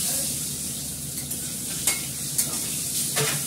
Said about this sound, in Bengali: দেখো আমরা আলুগুলো ভাজা হয়ে গেছে